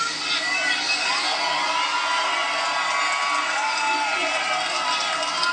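A large outdoor crowd cheers, whoops and shouts continuously as Donald Trump departs on his last day as president, the noise steady and somewhat distant, with a voice talking over it.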